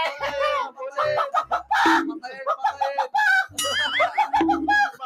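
Chicken clucking in the video game Minecraft, repeated squawky, pitched clucks in quick rhythmic bursts, close and prominent, with a voice talking between them.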